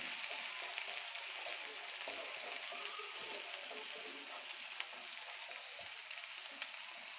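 Onions fry in a pan and get stirred, producing a steady bright hiss with scattered small pops and faint scraping throughout, close and even, with no talking.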